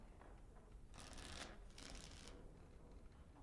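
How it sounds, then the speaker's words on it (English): Playing cards shuffled in Dragon Age: Origins, two quick riffling bursts of rapid papery flutter, quiet and close, over a low background hum. "Before we start, the cards must be shuffled."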